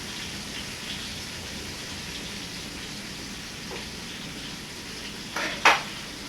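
Food for minestra browns in a pan over medium heat with a steady, even sizzle. Near the end a brief louder clatter of a utensil on the pan cuts through, and nobody speaks.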